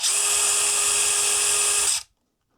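A DEWALT DCF922 18V XR brushless impact wrench spinning freely at speed 2, a steady high whine with a constant tone for about two seconds before cutting off abruptly into silence.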